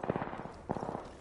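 Rapid automatic gunfire in the video game Apex Legends, two quick bursts of fairly faint, rhythmic shots with a short pause between them.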